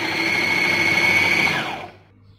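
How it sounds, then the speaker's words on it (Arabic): A food processor whirs steadily as it grinds onion and pepper with salt and black pepper, a loud high motor drone that spins down and stops near the end. "الروبو هذا، دير نزيد عليه البصل والفلفل"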